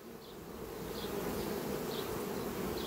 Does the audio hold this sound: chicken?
no